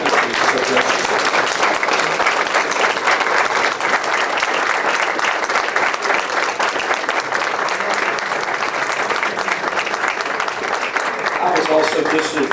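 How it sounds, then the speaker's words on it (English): A standing audience at a Veterans Day alumni event applauds veterans with dense, sustained clapping that stays loud and even for over twelve seconds. "I'd like to ask everyone to stand and give your applause for these men and women who serve our country so graciously."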